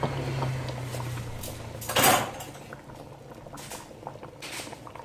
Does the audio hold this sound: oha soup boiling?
yes